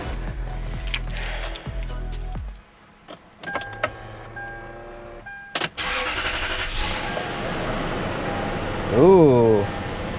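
A 1996 Lexus LS 400 engine cranks and fires up mid-clip, settling into a steady idle after earlier clicks and clunks, with a person talking over it near the end.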